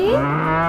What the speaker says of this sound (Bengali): গরু বাছুর